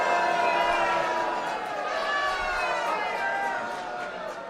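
Town hall crowd booing a Republican congressman, a dense sustained roar of many voices that swells and slowly fades, loud and filling the room.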